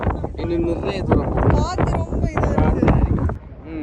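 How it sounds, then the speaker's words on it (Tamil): Strong wind gusting at a hilltop tower at Ambuluwawa, Gampola, Sri Lanka, buffeting the microphone with heavy low rumble while several people talk loudly over it. "அங்க கடும் காத்தா இருக்கு."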